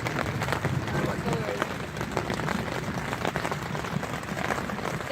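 Rain patters steadily on a camping tent at a state park, a dense, close drumming of drops that continues without pause while people talk faintly in the background.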